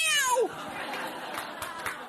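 A cat gives a loud, falling yowl at the start, followed by a brief stretch of background noise and faint clatter.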